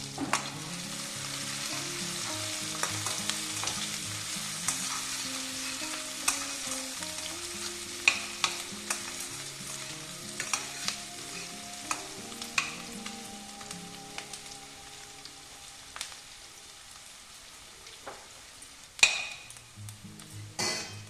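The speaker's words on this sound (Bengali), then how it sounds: "আদা পেঁয়াজ কাঁচা লঙ্কা দিয়ে দিলাম" Ginger, onion and green chilli sizzle and fry steadily in a hot pan, with occasional stirring clicks and scrapes spread through the sizzle and a brief louder clatter near the end.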